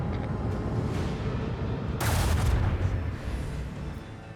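Lance batteries fire a volley in the Warhammer 40,000: Rogue Trader video game, a broad rumbling barrage that swells into a loud, booming burst midway and then rolls on as a heavy, sustained roar.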